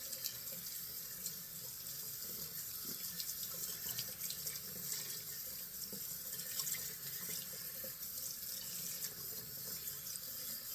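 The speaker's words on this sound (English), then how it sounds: "I'm gonna rinse out the brush right quick. A lot of lather left in that brush." Water runs steadily from a tap while a shaving brush is rinsed under it. The stream is faint and constant, with small splashing variations and no talking.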